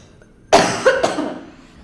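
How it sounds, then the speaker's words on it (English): A streamer recovering from an illness gives a sharp, close cough followed by two quicker, smaller coughs, all alone in a quiet room. "I do apologize if I keep coughing"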